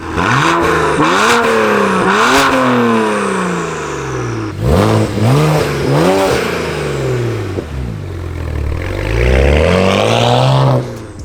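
Loud exhaust on a BMW 335i revving repeatedly, engine pitch climbing and dropping in several sharp bursts, then a longer rising rev near the end.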